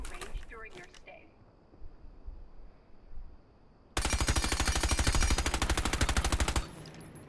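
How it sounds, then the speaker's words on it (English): Automatic gunfire with a compensator attachment in Rainbow Six Siege rattles out as one loud, rapid burst of evenly spaced shots lasting a few seconds, after quieter game ambience and brief talk. "we're gonna do the compensator now"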